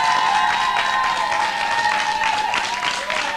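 A TV studio audience applauds loudly and steadily through a live European music show, dense clapping filling the whole stretch with a faint murmur of voices underneath.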